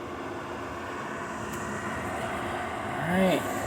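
A Hisense dehumidifier runs with a steady, even mechanical hum and airflow whoosh, and a brief rising whine near the end.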